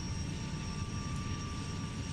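Gazelle helicopter turbine engine and rotor running during startup, a loud, steady whine and roar held close and constant throughout, no voices.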